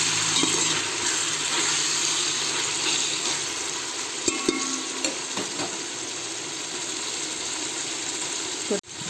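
Vegetables for a vegetable biryani sizzle steadily as they are stirred in a frying pan, with continuous loud frying hiss and occasional scraping clicks throughout.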